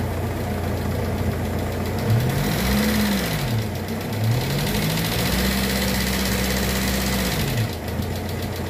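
Euro 4 engine with electronic throttle, suffering head gasket trouble with water in the oil, idles with a steady knocking drone, then its pitch rises and falls as throttle is given in short blips, close and loud.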